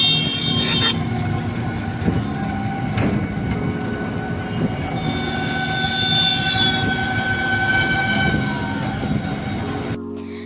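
A train at Bardhaman railway station rumbles and clatters continuously, with rhythmic wheel clicks and a high metallic whine running over it, loud and close throughout before cutting off near the end.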